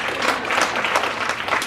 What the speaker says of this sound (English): Can we have a round of applause for Destiny, by the way?